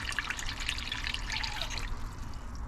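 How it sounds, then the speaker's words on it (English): Water pours into a cooking pot of chicken for borscht, a close, continuous splashing trickle that thins and softens near the end, with no voices. "So I'm just gonna add this water up there."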